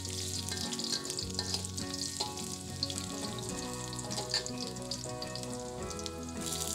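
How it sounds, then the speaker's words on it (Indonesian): Garlic dropped into hot cooking oil in a wok, frying with a steady, close sizzle and crackle that runs throughout, with light stirring and no talk. "Selanjutnya panaskan minyak goreng ke dalam wajan atau kuali. Setelah panas, masukkan bawang putih."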